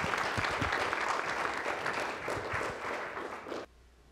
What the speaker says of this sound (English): please give a round of applause for Suzy Younger